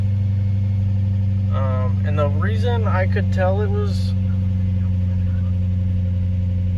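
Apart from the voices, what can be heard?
car engine idling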